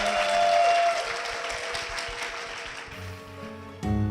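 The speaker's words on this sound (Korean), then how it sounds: "힘찬 박수 부탁드립니다" A church congregation applauds warmly at a Korean church service, the clapping strong at first and then thinning out as sustained musical tones take over near the end.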